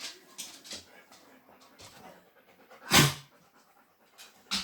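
Dog panting in quick, breathy bursts close by, with soft whimpering mixed in and one louder huff partway through, heard during a Halloween makeup session.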